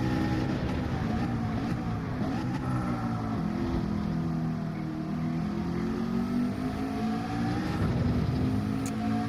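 Car engine in Gran Turismo 7, racing at high revs in 5th gear during a GTWS Manufacturers Cup event at Grand Valley, a loud steady drone that rises and falls slightly, with no talk.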